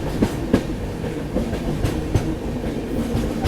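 A Vistadome coach train rolls along the scenic Sakleshpur–Subramanya line near Yedakumeri station, its wheels clacking over rail joints in a steady, moderately loud rhythm beneath a constant rumble, with no voices.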